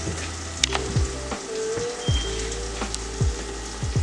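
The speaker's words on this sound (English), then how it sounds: "I'm just gonna throw the wings straight into the pot." Chicken wings sizzle loudly in a pot of reduced marinade, a steady close frying hiss broken by several sharp pops and spatters, with no talking.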